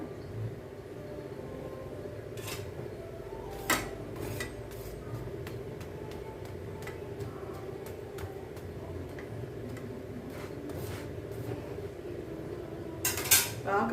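A chapati is turned over and over on a pan, with light irregular ticks and clinks of utensil against metal spread through the stretch, faint and close above a steady kitchen hum, ending in a brief flurry of clatter.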